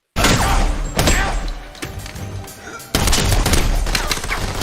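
Gunfire from a film scene: loud, sharp shots and bursts of rapid fire with heavy thuds, two big blasts starting each section, steady and close without speech.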